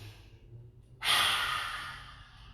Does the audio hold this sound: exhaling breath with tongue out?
yes